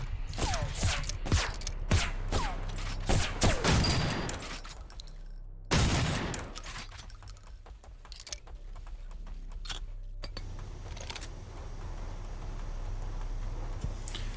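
Shotgun blasts in the arena shooter Project Genesis, a cluster of sharp loud shots early on, one heavy blast midway, then lower rumbling and clatter, no talk.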